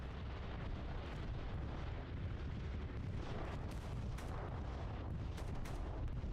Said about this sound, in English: 27th bombing run over the wheat field.